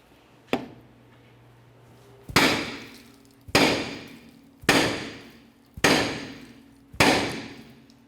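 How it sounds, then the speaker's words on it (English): Five heavy metallic hammer blows ring out on the rear brake drum of a 2005-2010 Chevrolet Cobalt at steady intervals, each a loud clang decaying slowly, after one lighter tap. "To do that, I'm just going to use a hammer."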